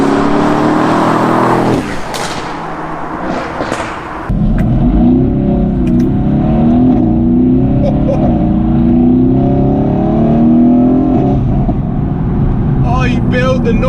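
A Renntech-tuned Mercedes-AMG GT S engine revs hard and climbs through the gears on the road, loud and close with a deep rising roar. Someone talks over it.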